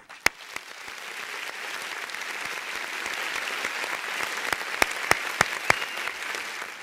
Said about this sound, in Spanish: hoy dedicamos el aplauso de la patria agradecida